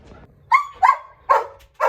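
A dog at home lets out four sharp, close barks in an uneven rhythm, with faint low background noise between them and no speech.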